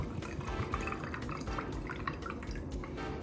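Sprite poured into a glass for a homemade vodka drink, giving a steady splashing, trickling pour throughout at close range, with no talking.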